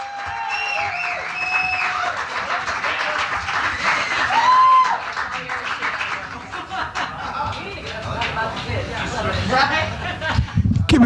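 A comedy-show audience applauds and cheers in a sustained burst of clapping with scattered whoops and chuckles, while a host speaks over the crowd.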